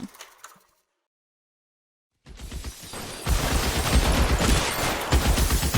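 Rapid bursts of gunfire in the video game L.A. Noire erupt loudly after a brief silence, sustained and dense like a firefight.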